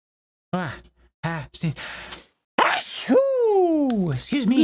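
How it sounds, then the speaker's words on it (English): A person sneezes, with sharp vocal bursts and breathy exhalations, followed by a drawn-out groaning vocal sound, close and loud. "you sneezed your headphones off"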